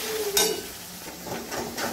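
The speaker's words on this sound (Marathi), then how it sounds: "आता आपण अद्रक, लसूण आणि कांदा परतून घ्यायचा आहे, त्याची पेस्ट परतून घ्यायची आहे।" Ginger, garlic and onion paste sautés in hot oil, a soft sizzle broken by a brief clink of a utensil against the pan, close by.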